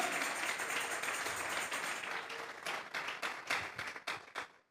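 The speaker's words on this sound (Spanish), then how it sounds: "Vamos a regalarle ofrenda de palmas al Dios de la gloria" A church congregation claps in praise during a Spanish-language sermon, a dense wash of applause that thins into scattered, uneven claps and then fades out.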